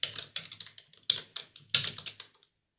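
Rapid typing on a computer keyboard, close and clear, in quick bursts of key clicks with short pauses between them, fading out near the end.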